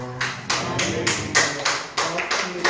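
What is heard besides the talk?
clapping from the congregation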